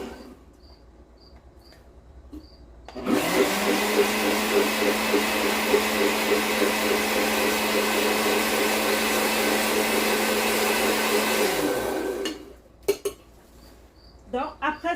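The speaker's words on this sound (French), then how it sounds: "Il faut avoir un mixeur à la maison." A kitchen blender mixes fruit and water into a shake, running loud and steady for about nine seconds before switching off, with brief clatter and quieter sounds before and after.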